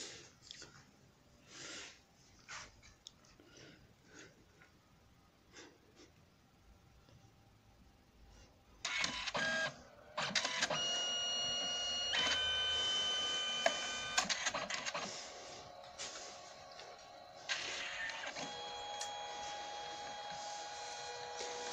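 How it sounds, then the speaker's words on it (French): A sublimation photo printer prints a photo sent from a smartphone, starting after quiet with a whirring feed and high motor whines that hold steady and then shift pitch, nearby and fairly loud. "On va laisser la photo s'imprimer"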